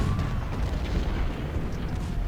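Rumbling booms of artillery fire in the Ultimate General: Civil War game, a low continuous roll of distant cannon with no distinct single blasts.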